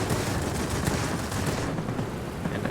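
XP-50 aircraft machine guns firing in World of Warplanes, a dense continuous rattling burst of rapid shots over engine roar, loud and steady for nearly three seconds.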